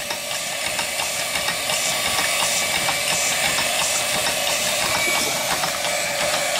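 A model steam engine runs on a flash steam generator at low power, giving a steady, fast mechanical chatter with a constant hiss of steam. Close and continuous throughout, with no voices.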